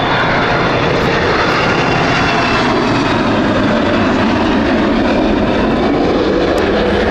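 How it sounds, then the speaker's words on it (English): Loud, steady roar of a United Airlines Boeing 777 jet at Heathrow Airport, filling the full duration as a broad, continuous engine rumble without talk. "That is confirmed, as we've got United with their 777."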